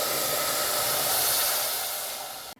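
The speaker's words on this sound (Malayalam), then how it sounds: "ഇനി നമുക്ക് ഇതിലേക്ക് തേങ്ങാപ്പാൽ ഒഴിച്ചു കൊടുക്കാം." Coconut milk pours steadily into a pan of fried onions, a loud continuous hissing rush that holds for over two seconds, then abruptly stops.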